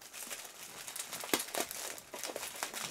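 Someone unwraps a heavily taped package, the wrapping crinkling and crackling in irregular bursts with a few sharper tearing rustles, close and fairly loud.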